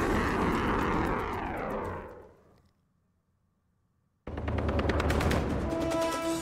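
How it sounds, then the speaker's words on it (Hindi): A missile launched from a warship at sea roars in flight, loud and broadband, fading to near silence around two seconds in, then a second loud burst of roaring and crackling as another launch follows. "ये मिसाइल समंदर में किसी जंगी जहाज से लॉन्च होने के बाद किस तरह से ये आगे बढ़ती है।"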